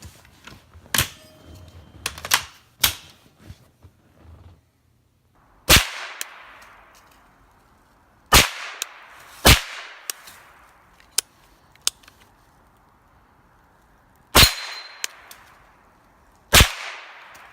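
A CZ Scorpion short-barreled rifle with a Form 1 suppressor fires outdoors in sharp, muffled cracks, single shots and quick pairs spaced irregularly with quiet gaps between.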